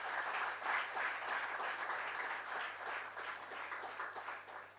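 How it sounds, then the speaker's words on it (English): Audience at a banking technology conference clapping in sustained, even applause from a sizable room, a dense wash of hands that stays steady throughout with a slight dip near the middle. "Let's give this eminent personality a huge round of applause."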